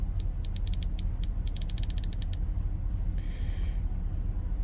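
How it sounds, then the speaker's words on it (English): Quarter-inch OLSA ratchet being turned: a steady run of sharp, rapid metallic clicks from the pawl and teeth, close and crisp, followed by a pause and a softer brief scrape, over a constant low background hum. "Here's the 1/4 inch ratchet. Again, the teeth in there do sound really nice."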